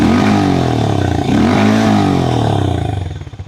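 A 400cc cruiser motorcycle engine idles steadily up close, a low throbbing rumble with a dense harmonic stack and faint mechanical clatter, dipping briefly and fading at the end.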